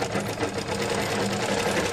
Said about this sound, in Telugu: ఈ విధంగా లాగకుండా జాగ్రత్తగా పెట్టుకొని పాదమంతా కుట్టు వేసేసుకోండి